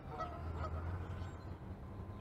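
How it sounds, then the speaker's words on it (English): Several geese honk in a brief cluster, moderately close, over a low background rumble. "Oh, there was some hidden geese."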